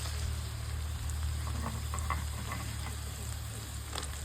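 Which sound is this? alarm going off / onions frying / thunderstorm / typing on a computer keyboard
onions frying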